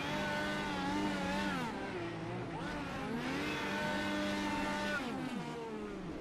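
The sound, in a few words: race car doing donuts, iRacing video game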